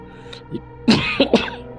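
Coughing and throat clearing as a sound effect in a narrated village horror story: a faint throaty sound, then two or three louder, harsh coughs close by, with no speech.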